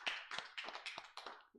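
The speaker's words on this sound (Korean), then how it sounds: "하나님께 영광의 박수 돌려드리겠습니다." A church congregation at a Sunday service claps in a slow, even rhythm, about six distinct faint claps in a row.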